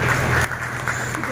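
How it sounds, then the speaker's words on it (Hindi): An audience claps at a community society's talent award ceremony in Bilara, the steady patter of many hands mixed with a voice speaking over a loudspeaker. "जोरदार ताली बजाइए।"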